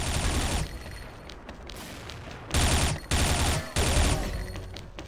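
Gun in the video game XSHOT fires continuously, loud and close, in dense automatic bursts. Several brief pauses separate the bursts before firing resumes.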